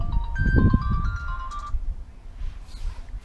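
A phone ringtone plays a short melodic tune of bright repeating tones for about two seconds, then stops, leaving low background rumble, heard during work fitting stainless steel transom wheels to an inflatable fishing boat.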